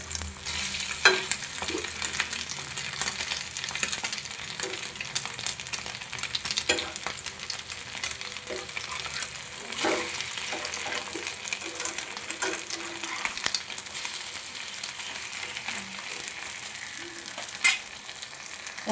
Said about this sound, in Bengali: ওই পাশটা সুন্দর করে ভেজে নেব।